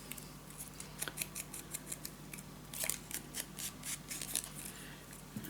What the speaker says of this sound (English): I'm gonna cut from corner till mark